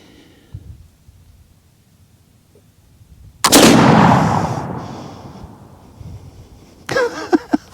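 A single loud rifle shot with a Schuetzen powder load rings out at a steel target, followed by a long decaying boom and echo. A few sharp clanks come a few seconds later.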